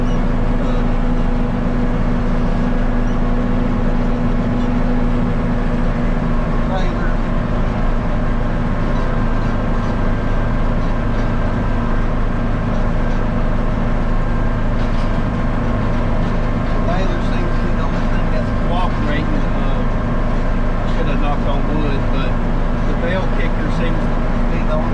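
A farm tractor, used for hay work and leaking fuel from its tank, runs with a steady, loud, low engine drone and rattle that holds unchanged for the whole stretch.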